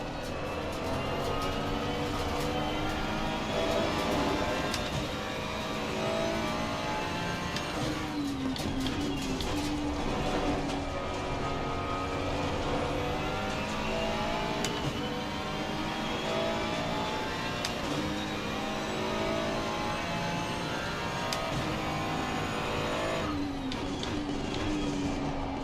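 GT3 race cars such as Bentley, Ferrari and McLaren racing in Assetto Corsa Competizione at Donington, a continuous engine drone with rising and falling revs and gear shifts, with a faint voice at times.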